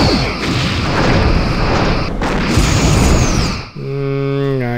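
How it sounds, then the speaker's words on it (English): Torpedo volley explosions in the space combat game Star Trek: Bridge Commander form a loud, sustained rumbling roar of blasts that drops out briefly near the end before a tonal sci-fi effect takes over. "More volley of torpedoes."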